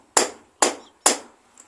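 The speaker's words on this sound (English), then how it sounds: "I'm just hammering a screwdriver to get underneath it" Three sharp metal hammer strikes drive a screwdriver under a KTM 50 SX swingarm bearing at an even pace, close and crisp, followed by a faint lighter tap.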